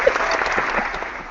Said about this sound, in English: I got to give him a round of applause here.